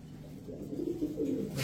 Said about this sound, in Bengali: রাব্বানি কবুতর বলে